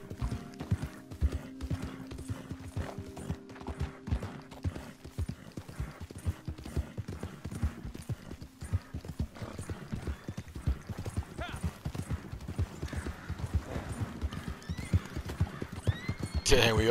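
Horse hooves clip-clop in a video game hunting area, with a horse neighing and whinnying amid steady hoofbeats, all under continuous talk.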